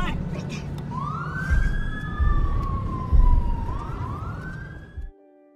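An ambulance siren in a film wails in long rising and falling sweeps over low rumbling traffic, fairly loud and close, then cuts off abruptly into near silence.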